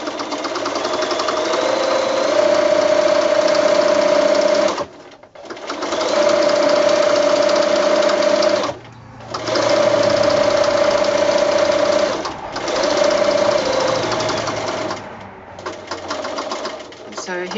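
A sewing machine stitches the thick seam of a small quilted mitt with the presser-foot pressure eased, running in four or five steady buzzing bursts separated by short pauses.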